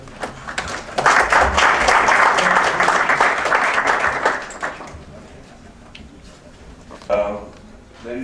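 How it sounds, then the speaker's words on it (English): An audience at a Brussels cross-border regions conference applauds a speaker: a dense burst of clapping swells after a second, holds loudly for several seconds, then fades out, with a brief voice and a few stray sounds near the end. "for whom I ask your applause"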